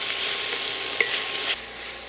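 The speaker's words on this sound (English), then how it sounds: "I am going to add my tomatoes now." Thinly sliced Roma tomatoes sizzle steadily in a hot pan, with a brief clink and stirring sounds over the continuous frying hiss.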